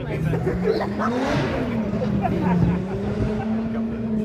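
A drag race car running through a chicane at a Killarney drag day, its engine a steady droning tone that shifts pitch as it turns, heard from a distance with people talking nearby.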